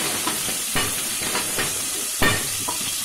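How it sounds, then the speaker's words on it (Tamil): Onions fry in hot ghee with a constant close sizzle, and a utensil stirs them now and then with brief scraping bumps. No one speaks. "இப்போ நெய்யில் நல்லா வதங்குது ஃப்ரெண்ட்ஸ்."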